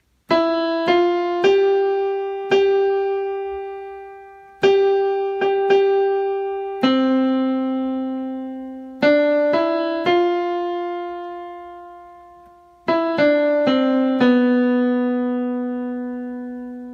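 Piano notes pick out a slow, simple melody in short phrases, each note ringing and decaying, with pauses between groups.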